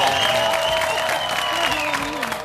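Studio audience applause on an Argentine television talk show, loud continuous clapping and cheering under a speaking voice.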